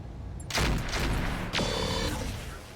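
Mech weapons firing at a Centurion in a RogueTech battle, a burst of loud gunfire and booms with a second volley about a second later, followed by a lingering mechanical whine.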